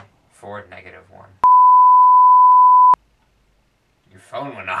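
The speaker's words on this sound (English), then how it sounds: "Your phone went off. Why do you have so many Twitter alerts?" A single loud, steady electronic beep from a phone alert, held for about a second and a half, with people talking just before and after it.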